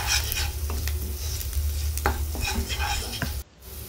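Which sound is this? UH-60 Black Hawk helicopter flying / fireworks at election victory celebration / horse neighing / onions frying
onions frying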